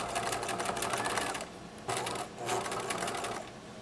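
A sewing machine runs a straight stitch along a swimsuit seam in quick rattling bursts, stopping briefly and then starting again, close and clear with no talking.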